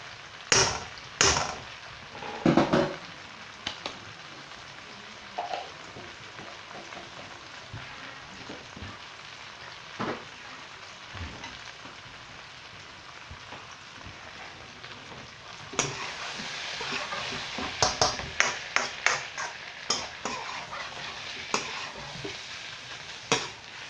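Garlic and vegetables sizzle steadily in a pan while being stirred, with intermittent scraping and clattering strokes over the soft frying hiss, growing busier and louder toward the end, with no voices.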